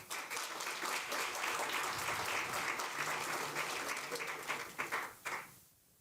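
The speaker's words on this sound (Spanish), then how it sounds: "Con un fuerte aplauso recibimos a Fernando de la Vega" A conference audience gives a warm round of applause to welcome a speaker on an infrastructure panel, a sustained dense clapping that dies away abruptly near the end; fairly quiet overall.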